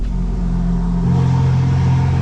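A car exhaust rumbles loudly nearby, its deep drone shifting partway through into a fuller, louder burble as the exhaust valves open, then holding steady, with no talking.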